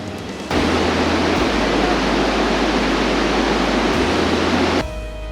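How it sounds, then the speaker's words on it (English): Burney Falls, a waterfall more than 250 feet wide carrying around 100 million gallons of water a day, roars as a steady, dense broadband rush, loud and unbroken from start to finish. "There is an enormous amount of water flowing over the falls at around 100 million gallons per day."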